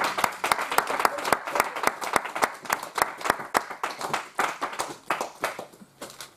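A church congregation applauds during a worship service, with many hands clapping in a steady, fairly loud rhythm that thins out and fades toward the end.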